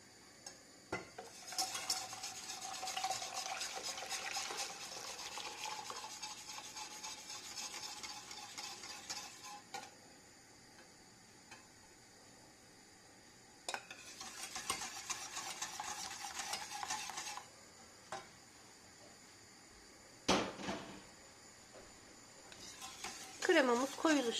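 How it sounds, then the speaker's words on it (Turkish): Stirring a milk-based cake cream mixture in a pot, bursts of quiet scraping and clinking from the utensil against the pot separated by pauses, faint and close. "şimdi karışımımızı sütümüze ilave edip hiç durmadan kaynayıncaya kadar karıştıracağız ki kremamız topaklanmasın"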